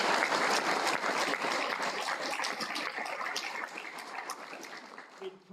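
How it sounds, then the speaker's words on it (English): An audience claps for Monique's short talk at a rural shire awards celebration, loud dense applause at first that slowly thins and fades over several seconds. "And a round of applause again for Monique's little talk"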